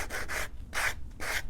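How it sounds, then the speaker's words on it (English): Sandpaper rubbing along the edge of a leather belt, heard in close, steady strokes with a rhythmic back-and-forth scratch, about four passes in quick succession and no voices. "going right along that edge and sanding that down"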